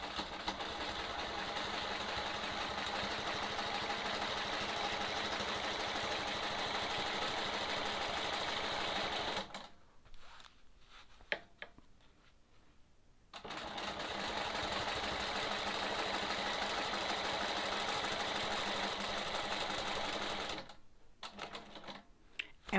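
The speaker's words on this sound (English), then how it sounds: "we're going to stitch in the ditch around here." A sewing machine stitches in the ditch around a sawtooth star quilt block with a steady, close, continuous whir, stopping twice briefly in short pauses before running on again with no voices.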